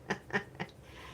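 A pencil sharpener squeaking like a duck, three evenly spaced, close, nasal quack-like squeaks in about a second, alone without talk.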